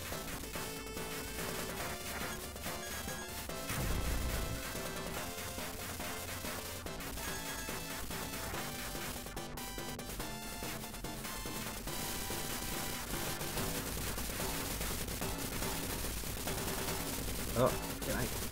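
Gunfire and grenade blasts crackle from the 1980s arcade game Ikari Warriors, sitting beneath a continuous chiptune music track, with a louder burst near the end.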